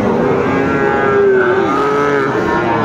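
A Friesian cross bull calf moos loudly at a busy cattle market, one drawn-out low call close by over a steady crowd murmur.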